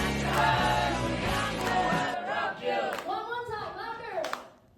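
An audience at a music meet and greet with an Indonesian drummer claps along in a steady beat, loud and close, while voices sing and talk over it before the clapping thins out.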